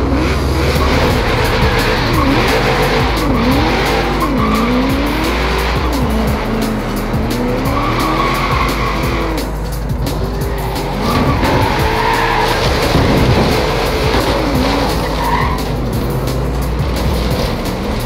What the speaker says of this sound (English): Controlling a muscle car with manual is very tough.